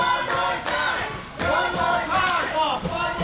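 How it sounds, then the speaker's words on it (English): Wrestling crowd at an independent show chanting loudly in rhythmic bursts, a dense roar of many voices rising and falling in repeated waves close by. "the crowd chanting for more chops"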